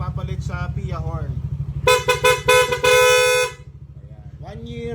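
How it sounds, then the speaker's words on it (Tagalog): A PIA dual horn on a Yamaha Aerox V3 scooter blasts in several short honks and then a long sustained blare, loud and close, over an idling engine's steady putter. "magpapalit sa PIA horn"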